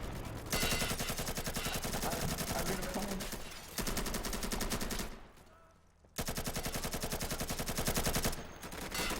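Rapid automatic gunfire in a video game, loud close bursts of machine-gun fire with short pauses between volleys, under faint voices.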